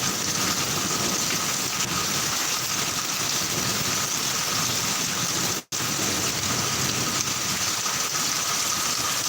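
Heavy rain falls steadily as a dense, continuous hiss that fills the whole scene, broken by one very brief dropout, with no voices.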